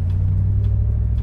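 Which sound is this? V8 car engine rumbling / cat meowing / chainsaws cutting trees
V8 car engine rumbling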